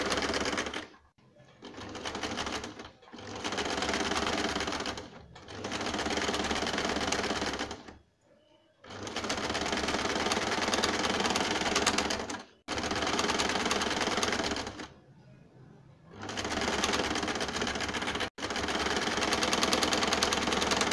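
A sewing machine runs thick, coarse stitches along the side seams of a gown cut from an old saree, in about seven rapid rattling bursts separated by short pauses, close and clear with no talk.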